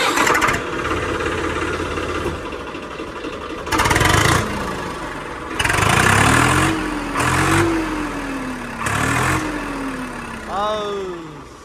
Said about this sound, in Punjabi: ਬਾਕੀ ਆਵਾਜ਼ ਚੈੱਕ ਕਰੋ ਟਰੈਕਟਰ ਦੀ